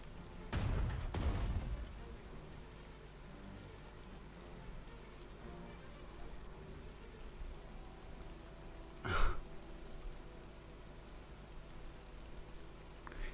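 Steady rain hisses in the war strategy game Strategic Mind: Blitzkrieg, a soft, even wash of falling water throughout, broken by a low thump near the start and a brief swell later.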